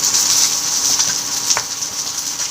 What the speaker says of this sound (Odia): ଦେଖନ୍ତୁ ଏବେ ମାଛ ଭଜା ହେଇଗଲାଣି।